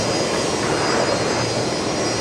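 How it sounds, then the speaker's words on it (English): A Fokker 70 jet taxiing onto its bay at Brisbane Airport gives a steady, loud broadband engine roar with a high whine on top, continuous and without voices. "another Fokker 70 just arriving onto the bay there, making beautiful sounds"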